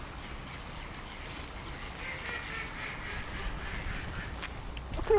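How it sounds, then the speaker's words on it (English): A flock of ducks quacks faintly on an unfrozen river in Vologda in winter, the soft, scattered calls mixed into steady outdoor noise, with a brief louder knock at the end. "at least the ducks look happy"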